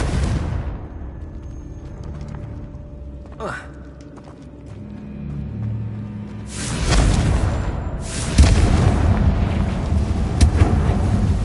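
Blasting Confringo spell going off in the Hogwarts Legacy video game, a loud booming burst arriving late that swells into a sustained rumble over lower game ambience.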